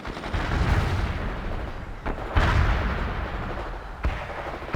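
Grenade launcher fire in the World in Conflict game: heavy booming blasts land at roughly two-second intervals, each one sharp and loud before a rumbling decay over a dense battle din, with no talking.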